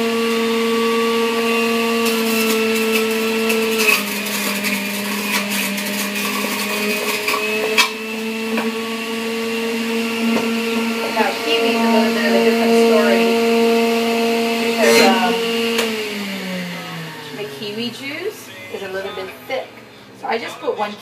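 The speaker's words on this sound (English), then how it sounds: "So that's going to also be coming into the blender, into the juicer." A motorized juicer whirs loudly and steadily as fresh fruit, including kiwi, is pushed through, its pitch dipping under the load, with talking over the top and a wind-down at the end.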